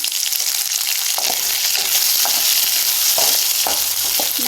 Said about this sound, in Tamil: மூணு பல் பூண்டு சின்ன வெங்காயம் ஒரு கைப்பிடி அளவு சேர்த்து நல்லா எண்ணெயிலே வரைக்குங்க